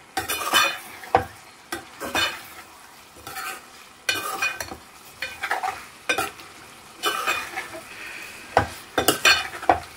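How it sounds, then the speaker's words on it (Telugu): Brinjal, raw mango and egg curry being stirred in a pan, with bursts of spatula scraping and clinks against the metal over a low sizzle, coming in uneven strokes close by without any voices. "వేసుకొని చక్కగా ఒకసారి కలిపేసేసేద్దాము"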